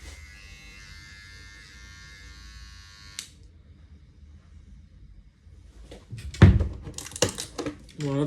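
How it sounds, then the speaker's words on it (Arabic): An electric hair clipper buzzes steadily for about three seconds in a quiet room, someone at home cutting their own hair, then it cuts off, leaving near silence before a few loud handling knocks and rustles. "اول مرة امسك مكنة حلاقة اصلا واحلق لنفسي"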